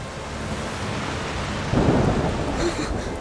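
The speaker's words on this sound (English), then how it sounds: "The rain is getting worse." Steady rain pours in a video-game storm while a low thunder rumble swells partway through, close and fairly loud with no speech.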